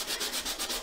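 Sandpaper rubbing back and forth over embossed craft work, about six quick rhythmic scrubbing strokes, close and fairly quiet.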